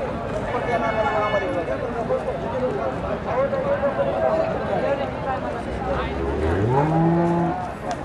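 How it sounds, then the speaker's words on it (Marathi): Cows at a farmer's cattle shed of a dairy farm keeping HF, Khillar and Gir breeds, with a long low moo rising near the end over a busy background of shuffling and people talking. "आपण फक्त शेतकऱ्याच्या दावणीवरच्या गाय दाखवणार आहेत तुम्हाला"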